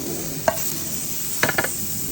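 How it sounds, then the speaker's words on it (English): Steak dropped into a hot pan sets off a steady broadband sizzle, with a few sharp clatters as the meat lands and settles. "So next we're gonna add our steak."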